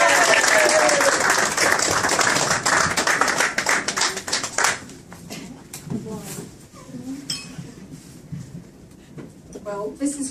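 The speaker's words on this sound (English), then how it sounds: "give her a nice round of applause as she steps forward" Guests at a 60th birthday party give a loud, close round of applause that fades out after a few seconds, followed by people chatting and the clink of glasses.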